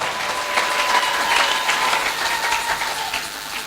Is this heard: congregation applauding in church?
yes